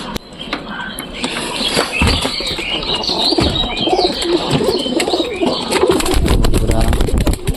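Pigeons coo and call in a busy loft with a young Rajshahi pigeon, layered chirps and soft rustling over steady background noise, fairly close and continuous throughout.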